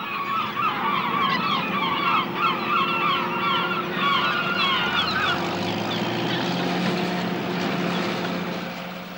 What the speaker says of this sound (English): It isn't just seagulls that live on the rubbish.